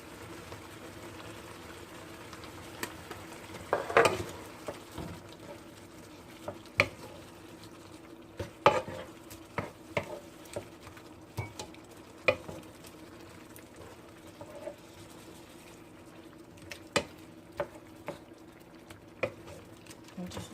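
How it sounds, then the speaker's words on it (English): Chicken gizzards simmer in a pan seasoned with garlic, salt and black pepper, giving a quiet bubbling hiss broken by scattered spoon clinks and scrapes as they are stirred, with a voice talking over it. "I'm mixing up my chicken gizzards."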